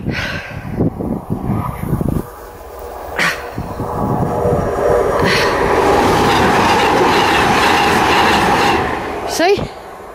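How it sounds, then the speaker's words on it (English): A train rolls past on a railway line beside a country footpath, loud and close, with a steady rumble and clatter of wheels building and holding, then a brief squeal as it clears; people talk briefly beforehand. "There's a train coming."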